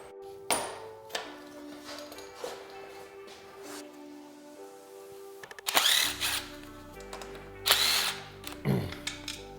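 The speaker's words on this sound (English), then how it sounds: "You guys know I'm a big fan of these DeWalt impact guns." A DeWalt impact gun removes bolts during the teardown of a 2007 Kawasaki KX250 two-stroke dirt bike, with two loud, close, rattling bursts of whirring hammering over quieter clinks and handling noise in a garage.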